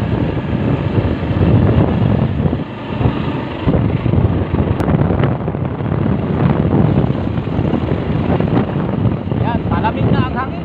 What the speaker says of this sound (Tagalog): Malamig na ang simoy ng hangin.